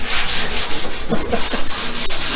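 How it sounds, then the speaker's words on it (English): Steady abrasive rubbing of 80- and 180-grit sandpaper over Model A hot rod metal, continuous back-and-forth scratching at close range with a few brief clicks, no voices. "now we're just sanding over it with 80 grit, 180."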